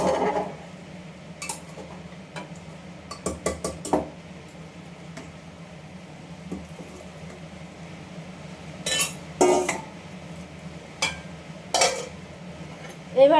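Meat being stirred in an opened pressure cooker, giving scattered metallic scrapes and clinks in short bursts against a low steady background hum, fairly close and moderately loud.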